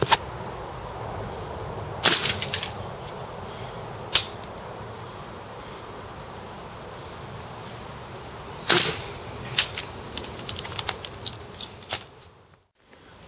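An airsoft gun firing at a target while being zeroed: a few sharp snapping shots spaced seconds apart, then a quick cluster of lighter ticks near the end, over steady outdoor background noise with no talking.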